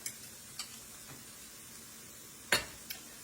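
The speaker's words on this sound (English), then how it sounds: "I'm going to let these onions finish sauteing up and getting tender" Onions sauté in a pan for chicken fried rice, a faint steady sizzle under a few sharp clicks and taps of a utensil against the pan.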